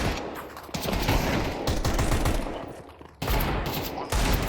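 Gunfire in the shooter game CS2: dense, loud bursts of rapid shots with brief gaps between volleys, the firing close and sustained.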